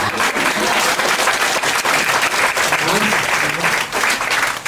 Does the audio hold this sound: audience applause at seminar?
yes